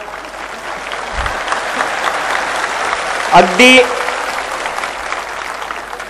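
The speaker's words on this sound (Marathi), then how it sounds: "योग्य त्या ठिकाणी टाळ्या पडल्या आहेत." An audience claps at a lecture series, a steady wash of applause with a spoken word and some raised voices partway through.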